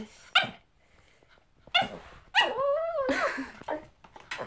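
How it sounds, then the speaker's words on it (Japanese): A dog barks and yips a few times at evening mealtime, then lets out a long whining, whimpering howl, close by with no talking. "かなり吠えてますが"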